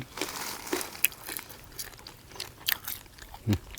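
Crunchy, crispy roast suckling pig skin being bitten and chewed: a run of close crackling crunches with small snaps, loud and near, with a few faint murmurs between bites.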